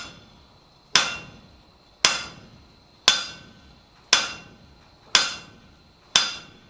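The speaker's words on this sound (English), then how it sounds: "we're going to come up with the hammer and we're going to come down with a snap" Six sharp metallic hammer strikes on an anvil ring out at an even, unhurried pace during blacksmith forging, each clang bright and close with a short ringing decay.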